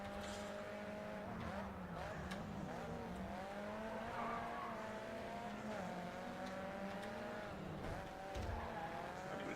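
A Nissan or Acura race car in GRID 2 on PS3 drives hard with a steady, droning engine note that rises and falls through gear changes, with tire squeal layered over the continuous engine sound.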